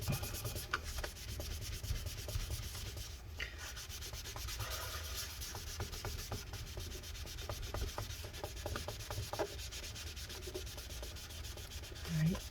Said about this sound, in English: The longest process is just getting all this gunk and residue off, scraping it out and cleaning it off.